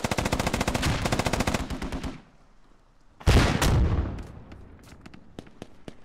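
Loud rapid automatic gunfire in the military shooter Squad rattles in a long fast burst, breaks off into a short lull, then a heavy blast with a rumbling tail is followed by scattered single shots.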